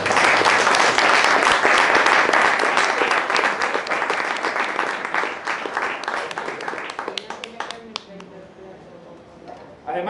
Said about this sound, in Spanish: debemos de realizar un aplauso por todo